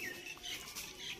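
Pigeons flutter and call at an outdoor feeding spot where they gather to peck grain and drink water, a soft continuous mix of wingbeats and chirpy calls, fairly faint and without talk.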